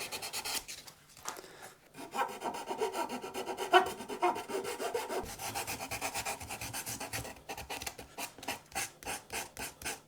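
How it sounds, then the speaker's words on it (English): Sandpaper is rubbed by hand over a wooden electric guitar body to blend the surface before finishing. Steady, close back-and-forth scratchy strokes repeat in a brisk rhythm throughout, with no talk. "And just blend it all in with a bit of sandpaper."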